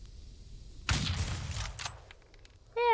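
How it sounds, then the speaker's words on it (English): Warning gunshots in the Old West video game Outlaws of the Old West: a short, sharp burst of several shots close together, followed by a fading tail and a brief tonal sound at the end. "Give him all those warning shots"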